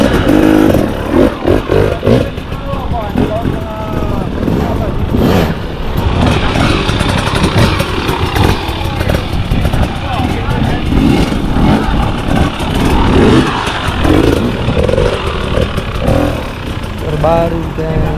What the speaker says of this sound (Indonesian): Kamu tes dulu nih, Wan. Motor kita motor baru.